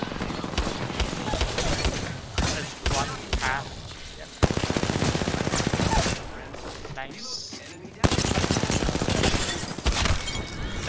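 Dense bursts of automatic gunfire from a firefight in the video game Apex Legends, loud and nearly continuous with brief breaks, while players talk over the shooting.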